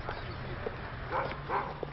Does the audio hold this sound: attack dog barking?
yes